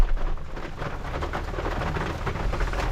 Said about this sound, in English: This rain is not going away and we are getting drenched.